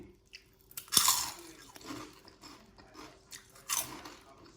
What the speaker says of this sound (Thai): เดี๋ยวมาชิมให้ฟังนะคะกรอบขนาดไหน